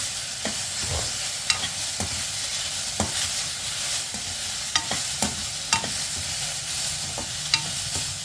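Dried curry leaves frying in a pan for dondakaya pachadi, with a continuous close sizzle and crackle and a series of sharp scraping and stirring knocks spread through it.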